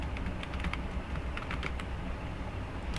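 Rapid, steady keystrokes on a computer keyboard while Python code is entered, a dense clatter of clicks running continuously for about three seconds over a low room hum, with no voices.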